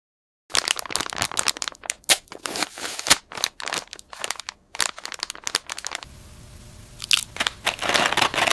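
Crisp, loud crunches of Doritos tortilla chips being bitten and chewed, a busy irregular series of sharp cracks close to the ear, changing texture partway through, with no talking.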